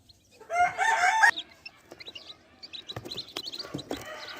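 Chickens of a black breed cluck and crow loudly up close, a burst of rooster-like calling followed by scattered softer clucks and bird rustling, ahead of being packed for shipment to Bahawalpur.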